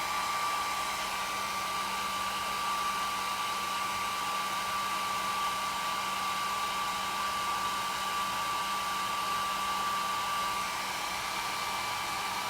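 A hair dryer blows steadily and alone, drying paint on a craft piece with an even, unbroken whine and rush of air and no pauses.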